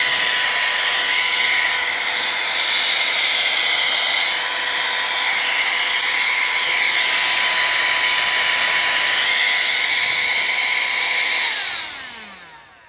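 A wireless compressed air duster blowing air, a loud continuous high-pitched whooshing whine lasting about eleven seconds before spinning down and fading out, with no talk.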